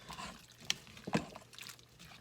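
Potatoes, onion and water are stirred in a saucepan, giving a few faint wet sloshes and splashes with soft clinks against the pan.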